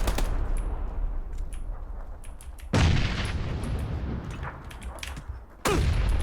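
Junkrat firing his grenade launcher over and over in an Overwatch match, heavy booming blasts and rattling bursts stacking up close, with two especially loud explosive impacts cutting through the steady barrage.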